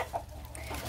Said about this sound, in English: That's a rooster. And he was trying to fight his place with his hen.